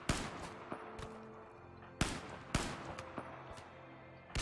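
Gunfire in RimWorld, a colony-sim video game: a few sharp, separate shots spaced well apart over a low ambient hum, moderately quiet, with no talk.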